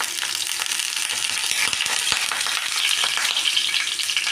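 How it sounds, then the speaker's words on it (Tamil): Mustard seeds splutter in hot oil while tempering for a chutney. Dense, loud crackling pops go on without a break, with no voices. "கடுகு நல்லா பொரியுது."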